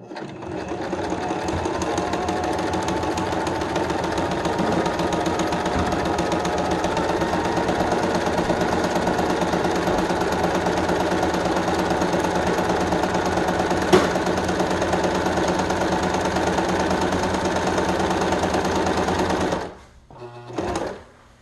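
Sewing machine stitching around the edge of doubled fabric on an N95 mask, a steady close whirring and rapid needle clatter that runs evenly for about twenty seconds before stopping.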